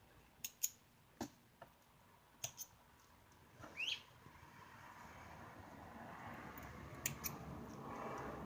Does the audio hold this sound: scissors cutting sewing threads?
yes